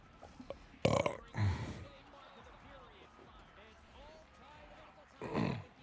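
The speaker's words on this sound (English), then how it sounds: "I do burp a lot on the stream." Two loud, gruff burps from a live-streaming hockey game host, separated by a few seconds of quiet room tone, the first short and sharp, the second longer and rumbling.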